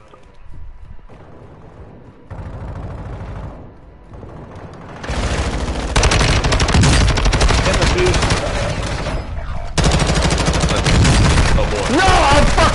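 Heavy gunfire erupts in a shooter video game during pre-firing: rapid automatic bursts and dense volleys build from sparse shots into a loud, sustained barrage.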